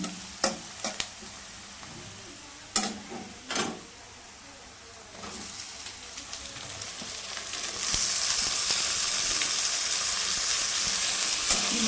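Onions and tomatoes fry in a pan under repeated stirring, with sharp scraping knocks of a spoon early on and then a frying sizzle that swells to a loud, steady hiss near the end, with no voices.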